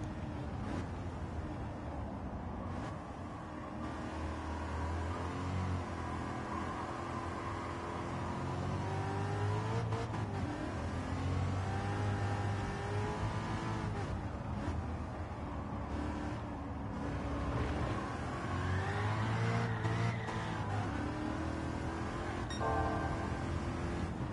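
A racing car engine in Gran Turismo 7 on PSVR2, droning steadily with the pitch rising and falling as it revs up and shifts, sustained and fairly loud across the whole stretch with no voices.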